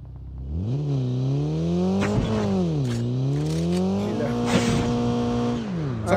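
Car engine revving and driving in the video game COD Mobile, a loud continuous motor whose pitch climbs and falls through several gear-like sweeps, with brief impacts mixed in.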